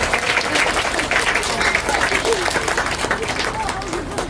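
Elementary school children in a crowded hall clap together in a loud, dense, continuous round of applause, with chatter and babble mixed in throughout.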